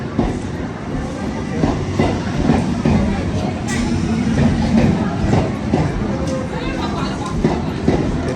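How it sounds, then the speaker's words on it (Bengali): A passenger train rolls into a station platform, a loud rumbling roll with rhythmic wheel clatter that swells and holds, and people talk nearby over it. "ট্রেনটা ঢুকতে বন্ধুরা, এই যে ট্রেন ধরার জন্য দাঁড়িয়ে আছে।"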